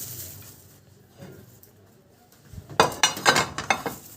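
A baking tray for a zucchini casserole is handled and set down, a quiet stretch giving way to a cluster of bright metallic clanks and clinks, close and fairly loud, without talk.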